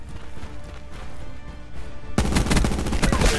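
Rapid gunfire from a Spitfire rifle in a team deathmatch round of a video game, first as a steady backdrop, then much louder and denser bursts from about two seconds on.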